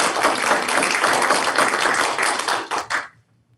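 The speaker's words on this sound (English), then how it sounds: "So congratulations, that deserves a round of applause." Round of applause at a school board of education meeting, steady mixed clapping from a modest group for about three seconds before it quickly tapers off into near silence.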